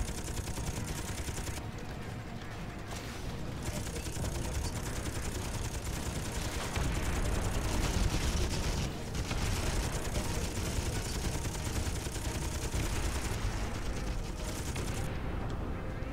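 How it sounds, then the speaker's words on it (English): Missiles exploding against ships in the space game Miner Wars 2081, a dense, continuous barrage of blasts and rumbling fire that rolls on without pause and swells a little midway. "missiles, once I get close enough to a ship, missiles actually kind of explode everything"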